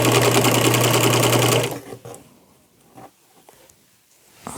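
A sewing machine runs fast and steady while stitching along the edge of fabric for an upcycle project, then stops, leaving a few light handling clicks and taps in a quiet room.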